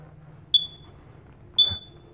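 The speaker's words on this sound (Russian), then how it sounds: "Пожарная сигнализация. Батарейка села." Two short, high-pitched chirps from a smoke alarm with a low battery, about a second apart, sounding indoors in a room of an American house with faint background rustle.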